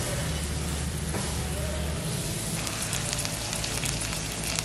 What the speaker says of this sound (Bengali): এবার দিয়ে দেব প্রন।